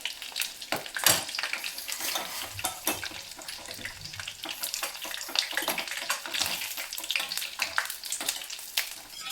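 Sev noodles crisping in hot oil for vada pav chutney, a steady close sizzle and bubbling fry with faint stirring clinks, continuous throughout.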